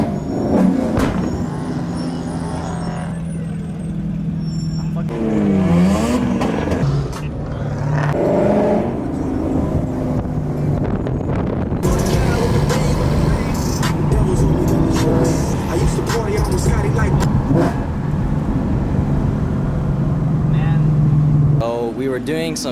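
A Ford Mustang Cobra with a 5.0 engine revs hard while shooting flames, a loud, continuous rumbling exhaust roar with surging rises, heard up close under ongoing voices.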